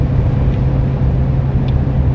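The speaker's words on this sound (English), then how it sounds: "We have a batch of cars coming." A batch of cars passing on a road during a Michigan winter storm, a steady loud roadway rush of tires and engines with a brief voice under it.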